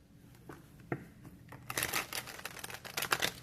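A deck of tarot cards being shuffled up close, a few soft taps and flicks at first, then a denser burst of crisp riffling card sounds, fairly quiet and with no talk.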